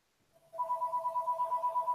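A telephone rings in a repeating electronic warble, starting with a single tone before settling into a steady two-tone pattern that pulses several times a second, fairly close and clear over a quiet room.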